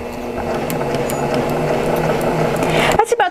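Baby Lock Accomplish sewing machine stitching at low speed under foot-pedal control, a steady close mechanical whir with light ticking that runs about three seconds, then stops, leaving a few soft clicks.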